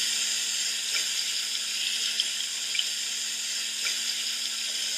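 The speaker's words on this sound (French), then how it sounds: "Rincez abondamment pour enlever tout le savon et les souillures." Water runs steadily from a tap into a sink as hands are rinsed of soap, a constant close splashing hiss with faint intermittent drips and a low hum underneath.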